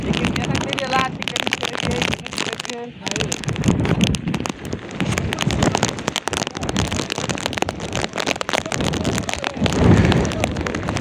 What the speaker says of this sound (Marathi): पाऊस बघा केवढा जोरदार